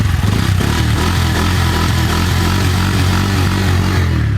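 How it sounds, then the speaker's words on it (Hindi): A Bajaj Pulsar N160 2026 with a four-valve engine runs steadily at idle, a loud, close, continuous throbbing hum with an even mechanical beat and no voices. "अब हम सुनाते हैं आपको 4V इंजन का साउंड किस तरीके से बिहेव करता है।"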